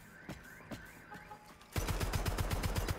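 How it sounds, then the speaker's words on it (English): Rapid automatic fire from two machine guns in a video game, a sudden loud burst of evenly spaced shots after a quieter stretch of scattered game sounds. "Let's go double machine gun"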